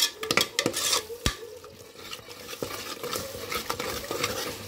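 A spoon scrapes and knocks through a thick yogurt mixture in a cooking pot, with a few sharp clinks against the metal over a low background hiss, close and moderately loud with no voices.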